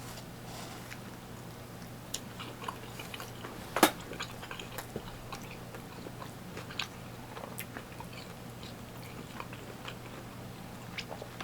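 Close, quiet biting and chewing on a flour tortilla shrimp dish from a Mexican meal, with scattered soft crunches and wet mouth clicks, one sharper crunch early on, over a low steady hum.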